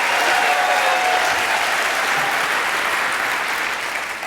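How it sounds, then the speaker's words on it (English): Loud, steady applause-like clapping, heard as a dense sustained patter that fades slightly at the end, attributed to a woman clapping her hands. "And I can clap also."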